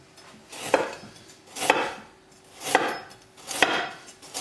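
Four evenly spaced knife chops slicing carrots into rounds on a cutting board, crisp and close, roughly one per second with quiet between.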